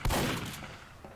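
A quick burst of video game gunfire, several rapid shots packed into a loud opening moment before fading into the background.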